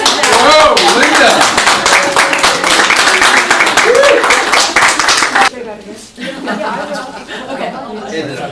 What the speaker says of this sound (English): I think we should have another round of applause